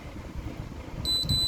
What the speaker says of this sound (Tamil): இது ஒரு பீப் சவுண்ட் கேட்குதுங்களா, இதுக்கு அடுத்து ஒரு பீப் சவுண்டு கேட்கும்.